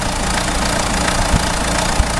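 A Renault Scenic with an F8T engine idles roughly and shakes, giving a dense, steady mechanical rumble with faint irregular knocks throughout, close and continuous with no talking.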